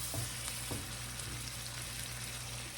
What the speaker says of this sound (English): Stir that rice down into the mixture.